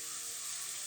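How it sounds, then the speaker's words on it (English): Tomato leaves and onions fry in a pan, giving a steady, bright, hissing sizzle that holds at an even level throughout the short moment with no voices. "And now it's time to just"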